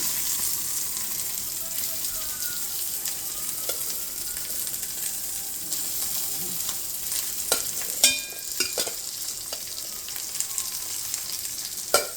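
Sweet corn kernels fry in hot oil over a low flame, making a steady moderate sizzle with a few clinks of a spoon against the pan toward the end.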